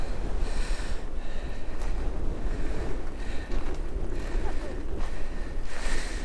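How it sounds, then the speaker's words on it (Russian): Strong wind buffets the microphone in a steady, rumbling roar on Santorini's volcanic island, with a faint voice underneath and a sense of open water nearby. "но только очень сильный ветер"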